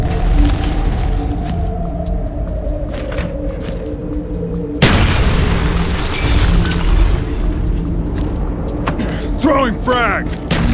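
A frag grenade blows up in a search-and-destroy match in a multiplayer shooter game, a loud broadband boom near the middle that then rumbles under steady game noise and voice chat.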